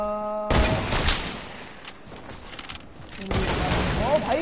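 Rapid video game gunfire from a duos shooter match, loud bursts of close automatic shots that stop briefly and then resume in a second volley, with no speech.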